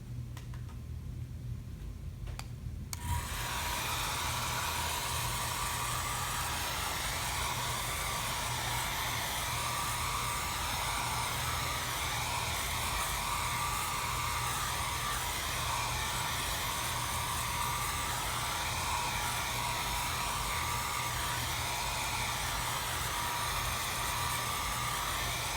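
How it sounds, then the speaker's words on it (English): Hair dryer blowing over painting paper, switching on after a brief quiet start and then roaring steadily and loudly for over twenty seconds. "So I'm going to dry my paper a little bit with a hair dryer"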